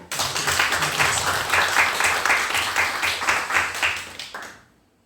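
Church congregation clapping in welcome during a Sunday service, steady rhythmic applause from a modest crowd for about four seconds before tapering off into quiet.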